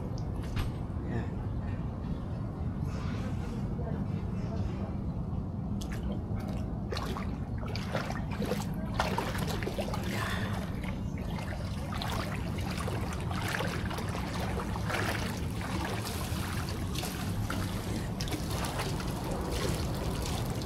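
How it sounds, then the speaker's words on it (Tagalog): Water bubbles and trickles steadily in a rooftop hotel jacuzzi on the 53rd floor, a soft continuous wash with faint voices talking nearby. "may bukal na tubig"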